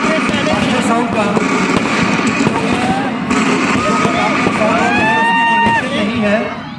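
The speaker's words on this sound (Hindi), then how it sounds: "ये जो पटाखों की आवाजें आप सुन रहे हैं, ये पटाखों की नहीं बल्कि साउंड का कमाल है।" Firecracker sound effects play loudly through a sound system at a Dussehra celebration, dense crackling and popping over a crowd, with whistling rises and people talking.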